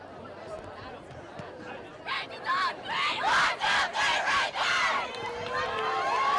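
Girls' varsity high school soccer team shouting its chant as it takes the field: after background crowd murmur, a run of loud rhythmic group shouts rises, each burst sharp and close, before easing back to chatter.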